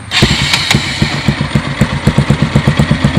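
A Bajaj Pulsar NS 200 motorcycle with its RPM limit unlocked runs up close and loud, its engine beating in quick, regular firing pulses.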